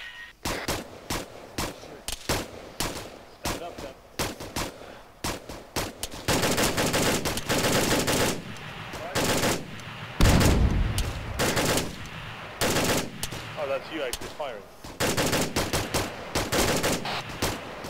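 Gunfire in the military video game Arma 3 during fire support group training: rapid single shots and sharp bursts that build into a dense, sustained volley, with scattered cracks near and far.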